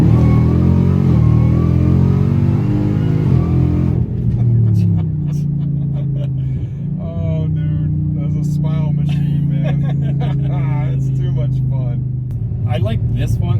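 Mini TRX truck engine revving and accelerating, loud and close throughout, with people talking over it.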